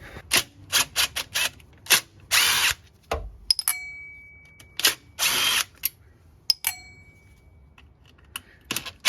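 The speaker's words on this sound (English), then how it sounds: "I'm gonna use the DeWalt impact to get these out really quickly" A DeWalt impact driver backs out Phillips head screws from a vehicle access panel, with repeated short bursts of loud rattling hammering separated by pauses, plus a couple of longer runs, close up.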